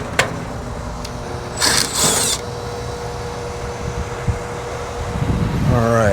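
A commercial HVAC condenser fan motor trying to run, a steady low mechanical hum and whine with a few brief clicks and a rising whir near the end, outdoors.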